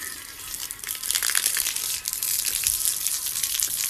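Strong spray of water hissing and gushing steadily for several seconds, close and fairly loud, with no voices.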